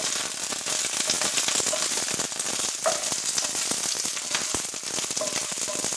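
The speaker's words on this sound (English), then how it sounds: "And I just want to get like a good hard sear on them." Brussels sprouts sear hard in a hot pan, crackling with a dense, busy sizzle of sharp pops over a constant frying hiss, loud and close without any talk.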